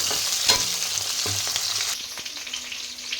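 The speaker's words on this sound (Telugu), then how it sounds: "ఇప్పుడు కొంచెం గోల్డెన్ బ్రౌన్ కలర్ వచ్చే వరకు వేసుకుందాం" Green chillies fry in hot oil for a fish curry, giving a dense, continuous close sizzle with light stirring scrapes throughout.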